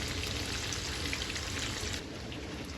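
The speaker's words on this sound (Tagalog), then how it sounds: "akin pong piniprito-prito na itong ating tokwa." Tofu fries in a pan with a steady, close sizzle and crackle, heard alone and easing slightly near the end.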